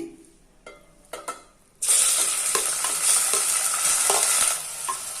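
Onions dropped into hot oil in a wide pan after a few light knocks, bursting into a loud, sustained sizzle with occasional stirring scrapes that eases slightly near the end.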